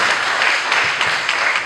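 A church congregation applauds during a sermon, a dense, loud, continuous wash of clapping hands with no pauses.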